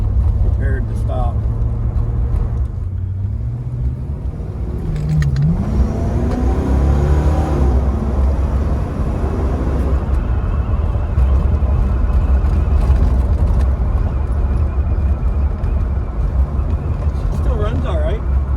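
A 1970 Pontiac GTO V8 rumbles steadily and loudly from inside the car, a deep constant drone with slight pitch shifts as it idles and moves, while people talk over it.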